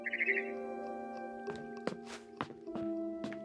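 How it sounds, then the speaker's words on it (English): A barn swallow chirps outside a window in What Remains of Edith Finch. A quick cluster of bright tweets opens the sound, followed by scattered soft thuds over a sustained low musical drone. "Then I heard chirping outside my window."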